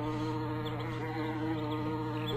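A bee buzzing in the horror game Monstro-plant, a continuous close, droning hum that holds steady the whole time.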